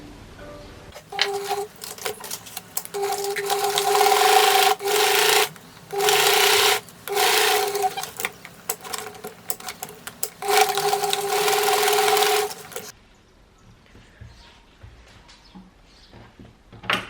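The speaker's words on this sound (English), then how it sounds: "I am now gonna sew two parts together, right sides together." A sewing machine joins two pant pieces with right sides together, running in several steady bursts of stitching separated by short pauses, close and fairly loud with no talking, before dropping to quiet room noise near the end.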